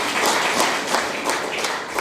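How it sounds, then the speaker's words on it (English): A crowd at a hosted event gives a brief round of applause, a thick, even patter of many hands clapping, fairly loud and continuous for a couple of seconds. "Round of applause."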